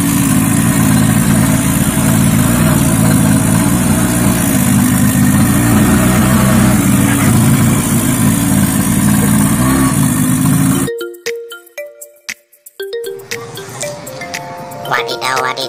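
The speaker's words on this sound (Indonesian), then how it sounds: "Selanjutnya ada motor balap." A racing motorcycle engine gives a loud, steady drone for about eleven seconds, then cuts off abruptly and gives way to quieter, scattered tones and sounds.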